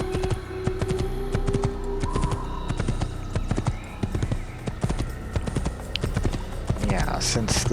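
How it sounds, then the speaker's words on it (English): Horse hooves clip-clop in a brisk, steady rhythm from an Assassin's Creed game. The trot runs throughout at moderate level, and someone talks over it with occasional keyboard taps. "we'll take the white horse."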